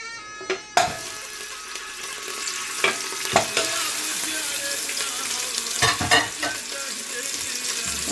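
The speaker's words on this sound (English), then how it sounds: "I will fry the meat in the beginning." Lamb meat fries in cooking oil with a dense, continuous crackling sizzle, punctuated by a few sharp clinks and stirring knocks close by, with no talk.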